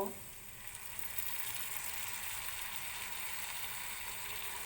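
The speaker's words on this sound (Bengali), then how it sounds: "এবার আমি এর মধ্যে টক দই দিয়ে দেব।" Sour yogurt stirred into spices frying in a pan for a Bengali prawn malai curry gives a steady, close hiss of sizzling oil that holds evenly throughout, with no talk over it.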